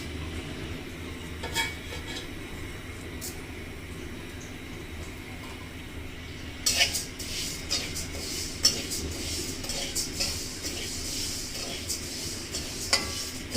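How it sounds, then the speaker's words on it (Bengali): Mung dal lightly frying and being stirred in a home kitchen pan: a steady, soft sizzle runs throughout, with utensil scrapes and metallic clinks growing busier in the second half. No one speaks. "আমি আগে মুগ ডালটা একটু হালকা ভেজে নেব।"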